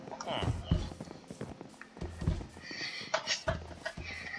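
Clip-clopping horse hooves tap in uneven bursts alongside other Minecraft game sounds, with a voice talking over them.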